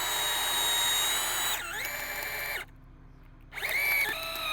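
A power drill drives screws into the logs of a log cabin: a loud, close motor whine that dips and rises in pitch, cuts out for about a second, then starts again.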